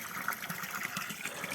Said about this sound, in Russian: 3 ручья сливаются в одну чашу и наполняют купальню